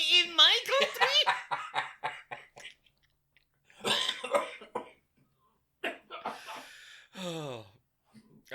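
A man in a 2019 thriller film coughs several times in quick bursts near the start, followed by scattered throat sounds and a few later harsh coughs separated by silence.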